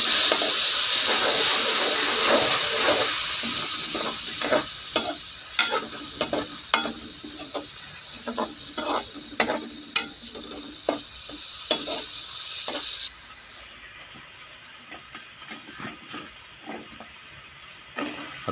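Tomato paste fries and sizzles loudly in a pan with crushed red chilli as spatula strokes scrape and tap repeatedly. The hiss drops abruptly partway through, while the stirring goes on more quietly.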